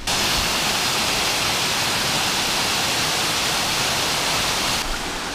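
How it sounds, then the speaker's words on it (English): A small mountain stream on a New Hampshire trail up Mt Lincoln and Mt Lafayette rushes in a loud, continuous hiss of close water, steady and unbroken with no talking. "little stream here, which you might be able to see, definitely can hear"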